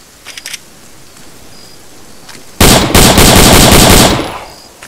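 Close, loud burst of automatic gunfire fired from the hip in the military shooter Arma 3, set in a Vietnam-era night operation, about a second and a half of rapid shots after a few faint earlier pops.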